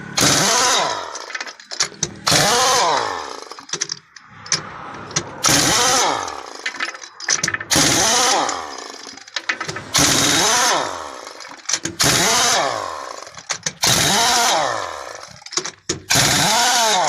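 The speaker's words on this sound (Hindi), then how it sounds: "ऑटोमैटिक हवा के उत्ते चलती है मशीन, कसेंदी भी है नट तो खुलेंदी भी है" A pneumatic air-powered impact wrench tightens and loosens the lug nuts on a tyre during a tyre change, firing in repeated loud, rattling bursts of a few seconds each, separated by short pauses.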